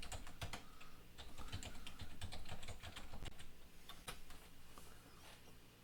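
Computer keyboard keys clatter in a quick, uneven burst as login credentials are entered, close and fairly quiet with light tapping clicks and no voices.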